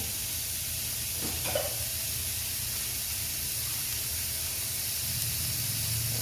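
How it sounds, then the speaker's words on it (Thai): Minced pork stir-frying in a pan with a splash of water, giving a steady soft hiss and faint sizzle throughout, with a brief clatter near the start and no talking. "ขั้นตอนที่2นะคะก็นำหมูสับมารวนค่ะ วนใส่น้ำลงไปหน่อย"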